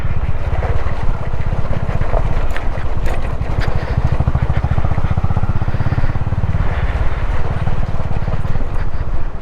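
Motorcycle riding through a water crossing on the rough mountain route from Spiti to Manali, a loud, steady low engine throb with continuous splashing and rushing water throughout.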